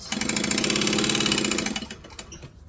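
A sewing machine sews a quarter-inch seam at a 2.5 stitch length for a possum pouch, giving a close, steady, rapid mechanical chatter that slows and stops after about two seconds.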